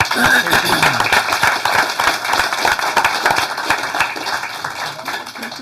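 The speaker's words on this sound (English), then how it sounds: "Give him a round of applause" At a city council meeting, a roomful of people gives a firm round of applause for an honored staff member, dense close clapping continuing steadily throughout with scattered voices mixed in.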